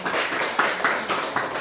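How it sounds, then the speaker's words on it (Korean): Church congregation clapping during a Sunday worship service to welcome visitors, a steady wash of many hands clapping at moderate level with no talk over it. "우리 서로 박수로 우리 환영할 수 있겠습니다"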